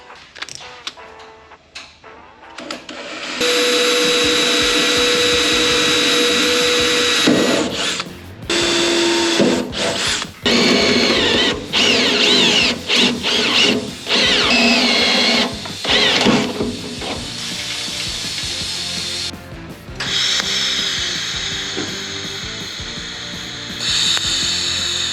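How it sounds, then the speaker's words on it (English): Drilling holes in steel Corvette frame rails for a Formula Drift build: a power drill whines and grinds loudly in long bursts with short pauses between, metallic scraping and rattles around it. "So I'm gonna drill some holes, step it out so this flange fits"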